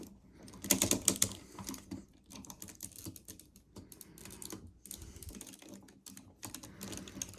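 Plastic parts of an MP-11 Starscream transforming toy being separated and folded, a quiet series of close, rapid clicks and tapping snaps in uneven bursts.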